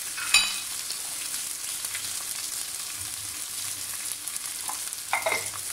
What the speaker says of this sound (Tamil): இது கலர் மாற வரைக்கும் நல்லா வதக்கிடலாம்.